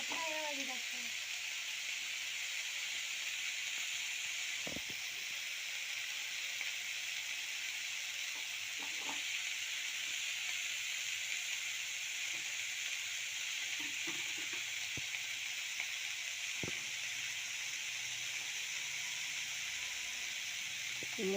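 Tomatoes cooking down in a pan for macaroni, a steady soft sizzle and hiss throughout with a few faint clicks and taps, moderately quiet.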